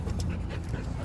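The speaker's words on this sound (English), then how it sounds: "Another dog." A dog pants steadily at close range outdoors, a continuous breathy rasp that runs the whole second without a break and without voices.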